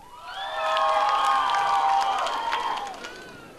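A crowd at an outdoor karaoke event in a town square cheers and shouts, a loud burst of voices that swells quickly, holds for a couple of seconds with scattered clapping, then fades.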